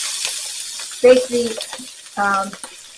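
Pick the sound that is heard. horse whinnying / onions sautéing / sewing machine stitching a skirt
onions sautéing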